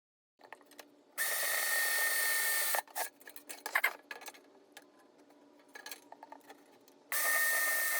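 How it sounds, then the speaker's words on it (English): A power drill drilling out rivets on top of a metal roof turbine vent: two loud sustained bursts of whining drilling with scattered clicks and rattles between them. "I need to drill out these 3 rivets on top to access the upper bearing."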